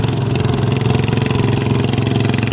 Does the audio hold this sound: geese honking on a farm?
no